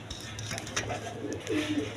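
Pigeons at a farm coo softly and close by, a few low murmuring calls over a quiet background.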